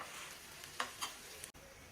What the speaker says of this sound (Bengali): এখন দুইটা একসাথে খুব সুন্দর করে লাল লাল করে ভেজে নিব